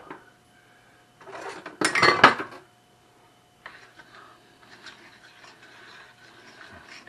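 Utensil scraping and clinking in a pan while mixing buffalo chicken and roasted potato casserole ingredients, a few close rubbing bursts with one louder clatter, then softer stirring scrapes.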